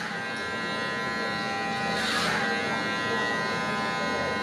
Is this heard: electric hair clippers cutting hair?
yes